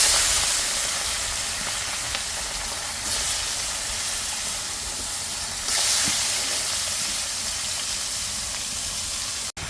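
Fish frying in hot oil gives a steady, loud sizzle and spatter that runs unbroken for about ten seconds, swelling slightly in two places, with no voices.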